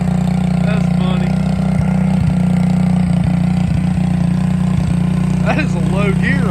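A Suzuki King Quad 300 four-wheeler idles in low gear with a steady, loud, low drone throughout, while a few faint knocks and a brief voice come near the end.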